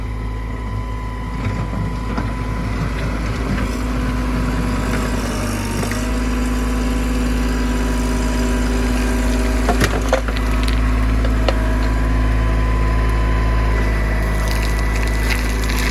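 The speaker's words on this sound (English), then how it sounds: "We're just gonna do a demonstration digging into this hill to show you the difference between the tooth bar and without." A machine with a WR Long GRIZZLY flat-bottom tooth bar bucket digs into a rocky hill of rock and gravel, a loud continuous engine drone underneath grinding, cracking and scraping of stone, with sharper crunches around the middle.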